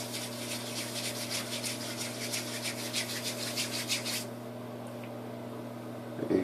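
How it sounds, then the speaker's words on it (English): Hands rubbing a small dab of Premium Wave & Scalp Butter together, a steady close soft friction that runs evenly for about four seconds, then drops to quiet background hum. "I'm gonna rub it up in my hand real good."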